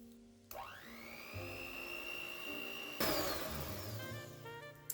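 A blender whirring steadily as it blends peanut butter cookie batter until smooth, starting abruptly and rising in pitch once it gets going, with a surge partway through, close and continuous.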